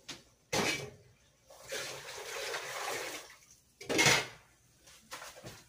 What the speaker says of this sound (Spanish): voy a echarle un poquito más de agua a la olla